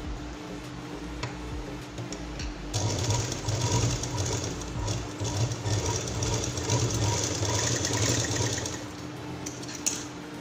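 Electric sewing machine stitching a straight seam across cloth for a small key-chain purse, a steady rapid mechanical whir running close and loud for most of the stretch with a slight speed change partway through.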